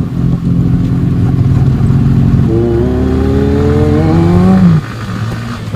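A Kawasaki Z900 motorcycle engine, close by and loud, runs at a deep idle, then revs up in a rising roar for about two seconds before dropping back down.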